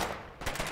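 Heavy artillery fire in the Foxhole war game, a burst of booming impacts and rapid gunfire after a brief lull, loud and rumbling with no voices over it.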